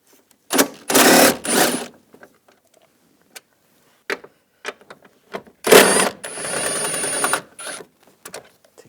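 A socket wrench ratcheting bolts out of a 2010-2017 Chevrolet Equinox, using a 13mm socket. Bursts of rapid clicking come close and loud, separated by quiet gaps with scattered small taps.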